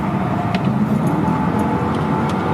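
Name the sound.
Mercedes CLK 55 V8 car driving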